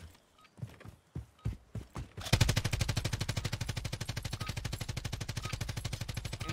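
AK rifle fire in the Call of Duty Cold War video game begins as several spaced single shots, then breaks into a long, steady, rapid automatic burst that is close and loud.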